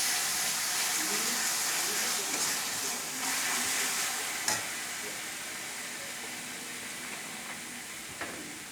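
Mustard-poppy paste masala frying in a pan for rohu fish curry, a dense continuous hiss and sizzle heard close up, with occasional soft stirring knocks and faint background tones.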